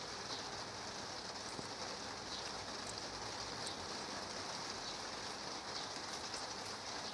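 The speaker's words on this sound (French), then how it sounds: "il pleut encore" Steady rain falling on water at a carp fishing spot, a dense, even hiss that continues throughout with no talking.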